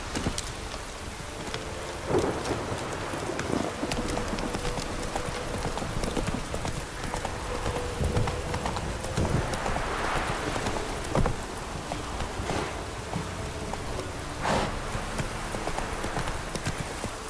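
A horse trots through rain in The Witcher 3 video game, steady clip-clop hoof beats over continuous rainfall with occasional rumbles of thunder, no speech.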